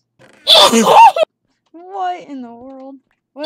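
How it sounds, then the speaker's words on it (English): One loud, sharp sneeze bursts out up close, and then a voice speaks in a startled, wavering tone. "That was a sneeze."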